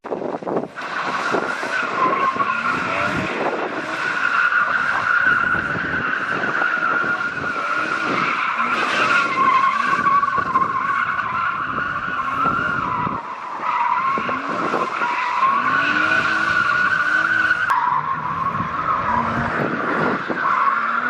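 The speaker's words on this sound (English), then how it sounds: "So I'm going to try some more donuts and see if that works out." Tires squeal and skid continuously as a car spins in repeated circles, engine roaring underneath, loud and sustained with brief dips between spins.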